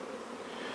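Africanized killer bees buzzing around a hive during a removal job, a steady, dense swarm drone that is faint and continuous with no voices.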